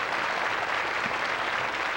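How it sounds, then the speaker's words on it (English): A television studio audience claps in a dense, steady wash of applause, brief and fairly subdued. "Let's have a nice round of applause for Peggy Sue."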